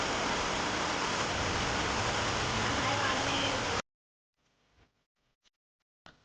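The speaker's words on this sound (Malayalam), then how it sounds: "ഈ ടൈമിൽ പുറത്ത് നല്ല തകർത്ത് മഴയാണ്, മഴയും കാറ്റും ഒക്കെ ഉണ്ടായിരുന്നു" Heavy rain with wind pours down outside a home, a loud dense roar of falling water that cuts off abruptly midway, leaving near silence with a few faint knocks.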